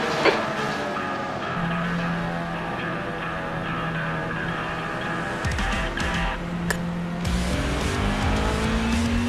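Porsche 992 GT3 race cars idling and revving in iRacing before the green flag, with a steady layered engine drone, sharp throttle blips and rising pitch toward the end.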